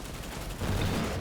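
Rapid gunfire crackles in the video game Armor Attack as a dense, fairly faint burst that grows louder halfway through, with no talking over it.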